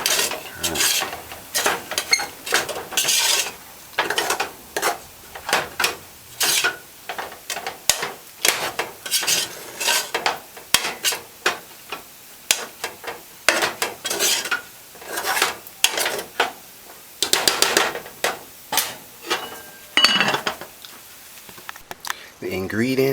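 Cornmeal being stirred and turned in a pot on a low stove, with repeated scraping and rubbing strokes against the pot in an irregular rhythm, close and fairly loud throughout.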